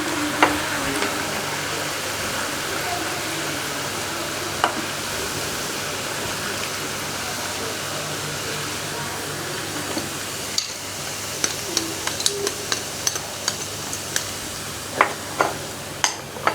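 Garlic and sesame seeds fry in a pan with a steady, moderate sizzle, punctuated later by scattered clicks and taps of stirring, with no talk heard.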